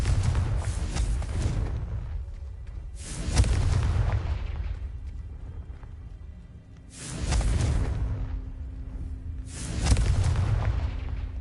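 Repeated Confringo blasting-spell explosions in the video game Hogwarts Legacy: four loud, booming bursts spaced a few seconds apart, each with a sharp onset and a rumbling low-end tail.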